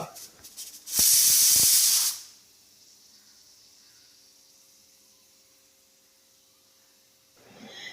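A loud burst of hissing steam from a pressure cooker boiling chickpeas, lasting about a second, then a quieter background with a faint steady hum, and a short rise of noise at the end.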